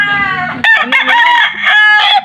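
A rooster crows loudly and close by, a long strained call followed by a second drawn-out crow, with no talking.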